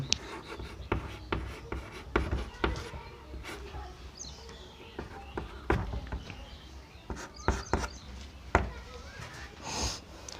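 Chalk taps and scratches across a classroom board as a chemistry example is written, sharp clicks and short scrapes in an irregular rhythm, close and fairly quiet, with faint birdsong in the background.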